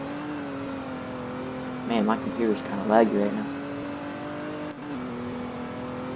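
Engine of a Hellcat car in the Roblox game Liberty County revving in two quick bursts while drifting, over a steady game engine drone, with someone talking throughout.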